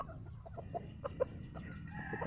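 Chickens cluck in short, scattered bursts nearby, a few sharper squawks standing out against a low outdoor hum.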